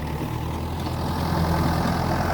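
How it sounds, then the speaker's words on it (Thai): Farm tractor engine running at a steady low idle while clearing debris at a property, a continuous rumbling drone with a deep throb, fairly close and unbroken. "ต้องเอารถไถมาลูบก่อนนะฮะ"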